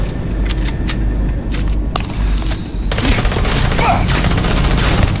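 Enemy gunfire in the video game Starfield: loud bursts of rapid shots and sharp cracks over a dense rumbling bed of combat noise, close and continuous throughout.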